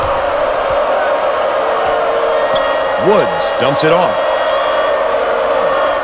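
A college basketball crowd roars through a 1997 Wake Forest at Utah game, loud and continuous with whoops rising midway, while a play-by-play announcer talks over it and sneakers squeak on the court.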